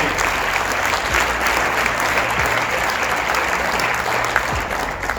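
A dinner audience at a scholarship event applauds the honorees, a steady roomful of clapping with a low hum of the hall underneath, fairly loud and even throughout.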